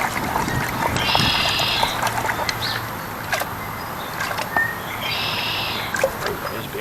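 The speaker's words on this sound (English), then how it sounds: "Got those red-winged blackbirds." Red-winged blackbirds in mid-April give repeated bright, buzzy calls over a steady outdoor wash of flowing water, with two clear call bursts standing out at moderate distance.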